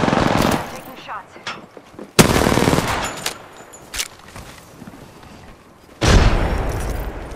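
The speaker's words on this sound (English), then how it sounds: "Taking shots." Gunfire in the battle royale video game Apex Legends rings out in loud, sharp bursts, with a heavy volley at the start, another sudden burst midway and a final loud burst near the end, separated by quieter stretches of scattered shots.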